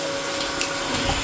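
Water poured into a pan of reddish fried potatoes, a steady broadband wash of liquid hitting the hot pan, close and continuous for about a second with no talk.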